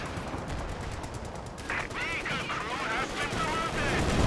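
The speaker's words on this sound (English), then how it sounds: "The snipers picking away at these squads in the middle rapidly" Sniper fire in Company of Heroes 2 cracks out amid scattered battle gunfire, crisp reports over a busy combat background, with a voice talking over the later part.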